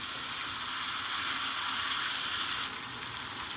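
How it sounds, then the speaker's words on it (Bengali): Cauliflower and potato sizzle steadily in a hot pan, a bright continuous crackle that dips slightly near the end. "এবার আরেকবার আমি সুন্দর করে কষিয়ে নেব"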